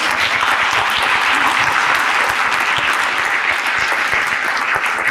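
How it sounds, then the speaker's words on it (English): Symposium audience gives panelists a round of applause, a full, steady wash of many hands clapping at close range, sustained and even with no talk. "a big round of applause for our panelists"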